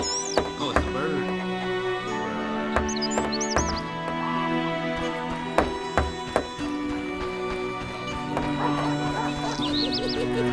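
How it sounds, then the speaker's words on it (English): Bird calls chirp in The Witcher video game, a few short high twitters rising over steady orchestral music with scattered clicks and thumps. "it's a bird"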